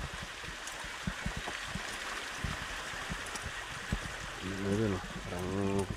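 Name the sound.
flowing water near Naumag Waterfalls, Mayoyao, Ifugao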